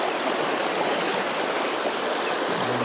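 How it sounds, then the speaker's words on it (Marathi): Fast-flowing river water rushes steadily through culverts on a Konkan river, a loud, broad, continuous roar close by with no voices. "पाण्याचा स्पीड बघा किती आहे तो."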